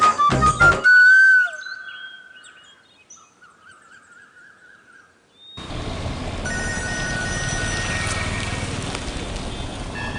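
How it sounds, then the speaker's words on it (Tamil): A telephone rings in a home at night with a loud trilling burst at the start, then fades into quiet before a steady hiss-filled background takes over. "எவன்டா இந்நேரத்துல ஃபோன் பண்றது?"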